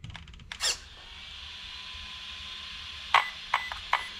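A few short, sharp electronic beeps from a Hobbywing Max10 G2 speed controller in an Arrma 3S RC car come in quick succession near the end, over a steady background hum.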